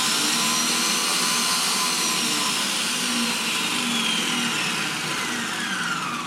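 A Monsieur Cuisine Smart food processor (Lidl Silvercrest SKMS 1200 A1) runs in turbo mode with a loud, steady high-pitched whirring motor that holds for several seconds at a constant level.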